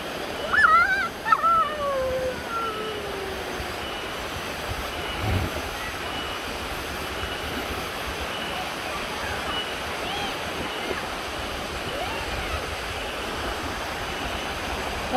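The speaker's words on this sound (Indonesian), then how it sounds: "Air terjun di Sukabumi." A waterfall in Sukabumi roars as a steady, broad wash of rushing water that runs unbroken throughout, with a voice briefly audible near the start.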